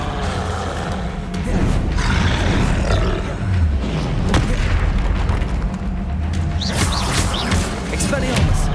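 Confringo blasting spell explosions in Hogwarts Legacy, several loud, booming bursts with roaring rumble spread across the clip amid other spell effects and growls.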